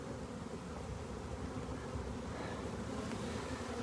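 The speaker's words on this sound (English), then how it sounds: "So it's a swarm of honeybees." A swarm of honeybees held in a hand buzzes in a steady, faint hum close by, continuous with no voices.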